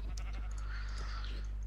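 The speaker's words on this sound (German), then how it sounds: "diese Kühe und Schafe, die sie am Ausrasten sind" A few short, nasal sheep bleats from the game Tekkit Lite (Minecraft modpack), overlapping over a steady low hum, fairly close and moderately loud.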